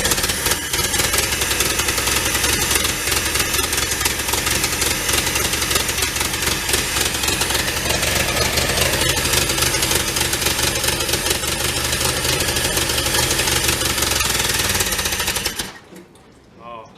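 A 1948 Willys Jeep engine, started after sitting dormant for 35 years, runs at a loud, continuous rough idle with a knocking clatter, then cuts off abruptly near the end.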